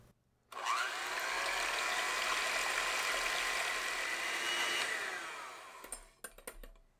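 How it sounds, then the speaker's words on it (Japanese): A handheld electric mixer whips egg whites into meringue for a gâteau au chocolat. It starts abruptly, holds a loud, steady whir for about five seconds, then winds down into a few clicks and taps. "続いてメレンゲを泡立てていきます。"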